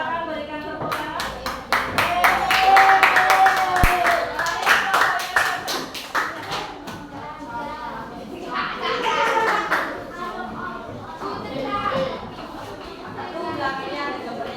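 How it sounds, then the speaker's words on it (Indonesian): Audience clapping at a gathering, starting strong under talk and children's voices, then fading and rising again in scattered bursts of hand claps that are fairly close and moderately loud. "silakan berikan tepuk tangan"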